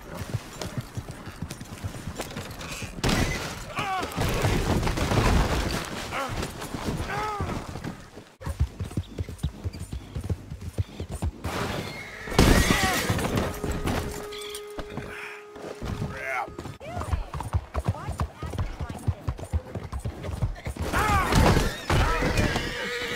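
Hooves clip-clop in quick galloping rhythm, loud and close, with a horse's whinny breaking through and occasional thuds; voices speak at times. From the video game Red Dead Redemption 2.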